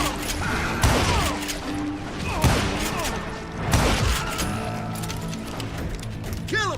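Western-style gunfights in Call of Juarez Gunslinger: repeated shots and booming impacts crack out in bursts over a steady rumble, with narration and character shouting layered above the combat.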